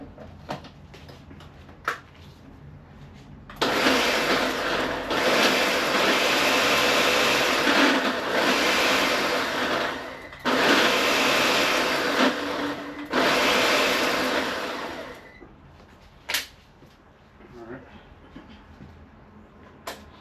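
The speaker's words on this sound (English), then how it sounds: "This blender is so honored. We're gonna go ahead and reblend it." A blender regrinds an artisanal master spice blend in loud, sustained whirring bursts over about eleven seconds with brief pauses between them, and the room is quiet before and after.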